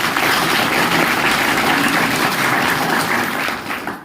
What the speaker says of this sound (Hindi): मैं चाहता हूं इनके लिए एक बार जोरदार ताली हो जाए।